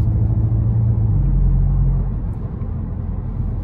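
A Volkswagen Golf 8 GTI driving on the road, heard from inside as a loud steady low engine drone and rumble with a slight drop in pitch toward the end.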